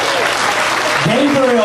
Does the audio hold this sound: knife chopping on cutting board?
no